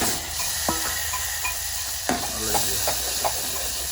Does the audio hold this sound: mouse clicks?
no